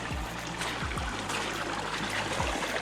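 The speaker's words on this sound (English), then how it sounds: "That sound is water that is escaping." Water escapes and trickles through the rocky canyon at Arizona Hot Springs (Ringbolt Hot Springs), a constant nearby gurgling flow with a few low thumps.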